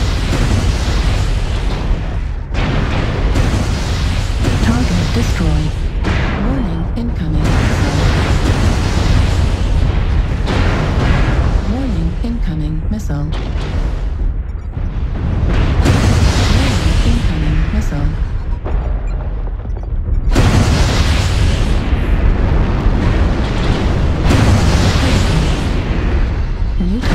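Explosions from a video game boom and burst in loud, heavy waves with brief gaps between them, and a voice comes through over the blasts.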